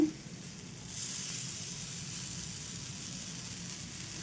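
Wheat flour and jaggery dosa batter hits a hot pan with a sudden steady sizzle that starts about a second in and holds evenly throughout, close and clear, with no talk.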